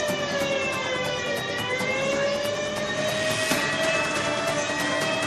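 A wailing air raid siren sounds during a blackout in Jammu, a steady sustained tone that rises slowly and holds, fairly loud with no talking.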